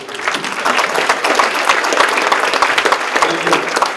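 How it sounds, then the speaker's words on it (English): Dense, steady applause from an awards-event audience at a hall of fame ceremony, many hands clapping loudly and continuously throughout. "let's end this evening with a big applause, and let's put our hands together"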